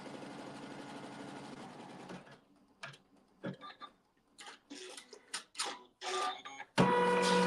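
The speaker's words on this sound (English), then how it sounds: "It's going to sew a seam" An embroidery sewing machine stitches a quilt block seam, running in a steady mechanical burst, then falling into short intermittent stitching bursts before a loud final run.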